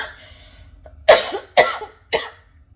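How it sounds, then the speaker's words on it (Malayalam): After a very spicy food challenge, a person who already had a cough gives three sharp, close coughs in quick succession following a faint breathy sound, with quiet gaps between them. "ചുമ എരിവിൻ്റെ അല്ല, എനിക്ക് ചുമ ഉണ്ടായിരുന്നതാണ്."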